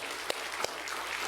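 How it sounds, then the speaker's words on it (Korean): A church congregation applauds together in a dense, continuous wash of clapping, with a couple of sharper individual claps standing out near the start. "다시 한번 박수로 하나님께 영광을 돌립니다."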